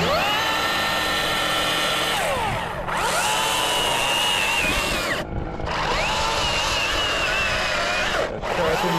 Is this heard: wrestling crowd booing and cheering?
no